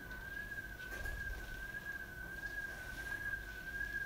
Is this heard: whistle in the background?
yes